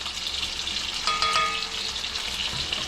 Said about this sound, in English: bring this up to temperature a little bit. Kind of fry it.